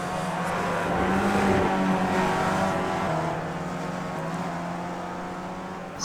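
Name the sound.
race cars braking into chicane in iRacing video game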